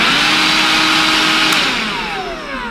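A Bosch BBH3PETGB cordless vacuum cleaner runs with a loud, steady high-pitched whir close by. Its pitch shifts slightly and it eases off a little toward the end.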